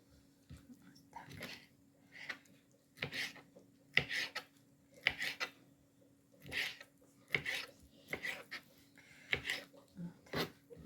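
Food being cut into small pieces with a knife, a series of short, sharp chopping and scraping strokes in an irregular rhythm, close and fairly quiet against a faint steady hum.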